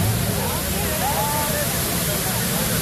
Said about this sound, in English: Finally, we are close to the waterfalls.